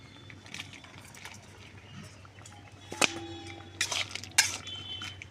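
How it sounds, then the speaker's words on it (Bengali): A metal plate clinks against a cooking pan of okra as it is set on as a lid, with a few sharp metallic clatters and rings close by against a low kitchen hum. "আমি এবার একটু থালা দিয়ে ঢেকে দিচ্ছি।"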